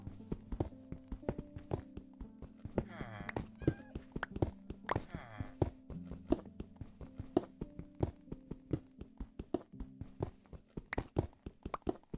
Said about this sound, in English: What's this cat doing in here?